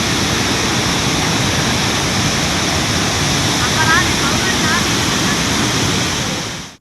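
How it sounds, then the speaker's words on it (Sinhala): Walapane's Adawala waterfall in the Nuwara Eliya area, swollen by heavy rain, roars loud and unbroken, a dense wash of rushing water that carries on steadily and fades out only at the very end. "නුවර එළිය වලපනේ ප්‍රදේශයට ඇදහැළුණු අධික වැසි සමග වලපනේ ආදාවල ඇල්ල සක්‍රිය වී තිබුණේ මෙලෙසින්"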